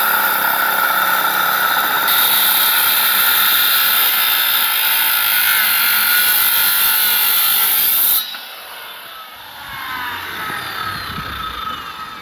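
A power drill bores into wood on a building site, a loud steady whining grind that runs unbroken for several seconds, then stops abruptly and gives way to quieter rustling and a low rumble.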